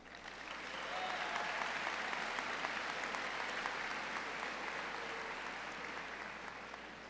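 Sustained applause from a large crowd at a high school graduation ceremony, rising within the first second and holding steady as a dense, even wash of clapping before easing slightly at the end.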